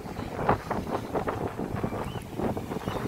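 Strong wind at a beach gusts across the microphone in a continuous rough rumble, rising and falling in loudness with no speech over it.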